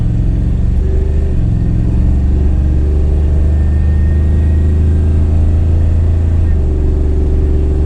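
Steady car engine drone during a test drive on newly fitted brakes, a continuous low hum with cabin road rumble throughout, fairly loud and even.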